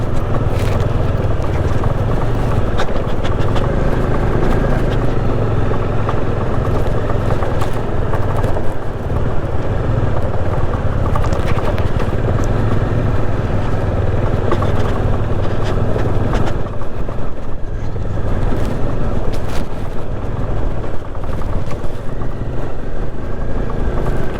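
A motorcycle labours up a steep mountain road near Shimla in first gear, its engine droning steadily and continuously under heavy wind rumble, with no pauses.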